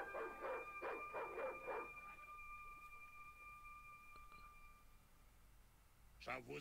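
In the Broken Sword 2 video game, a dog barks in several quick, loud bursts at the start, then fades under a steady electronic hum, with a sharp sound near the end.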